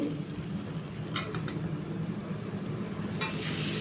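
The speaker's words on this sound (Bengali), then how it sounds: "মিনিট দুয়েক সময় ধরে পটলটাকে ভালো করে ভেজে নেব" Pointed gourd (potol) coated in spices fries in a covered pan, giving a steady, close hiss of sizzling that runs unbroken with a few brighter crackles.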